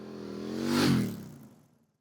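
An adventure motorcycle making a tight U-turn on a road, its engine note swelling to a peak and then fading away over a couple of seconds.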